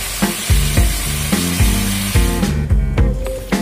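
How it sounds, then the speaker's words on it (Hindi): Chicken changezi masala frying in a pan over a medium flame, a loud steady sizzle broken by repeated stirring scrapes and clatters about every half second. "अभी ये मीडियम फ्लेम में मैं 5 से 10 मिनट तक इसको मैं पकाऊंगी।"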